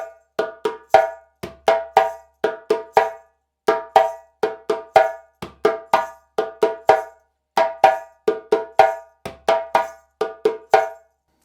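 A djembe plays the first accompaniment of the Guinean rhythm Fakoly: a steady, looping pattern of sharp slaps and ringing tones, with occasional deep bass strokes, struck up close and alone with no voices.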